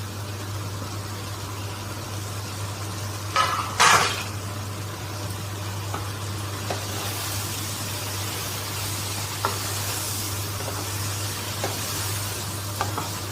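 Grated paneer for paneer bhurji fries in a pan over low heat with a steady, soft sizzle and a constant low hum, broken by a few louder scraping stirs near the start and faint occasional ticks of the spoon.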